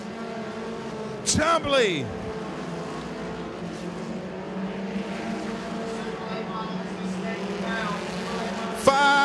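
A stock Pure Pony race car roars past on the Duck River Raceway Park dirt speedway with a sharp pitch-dropping sweep. A crowd and engine hum continue beneath steady commentary, and a brief high burst comes near the end.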